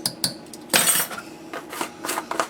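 A spoon stirs thick peach butter in a crock pot, giving a few sharp scrapes and clinks against the pot with short quiet gaps between them, close and clear, with no talking.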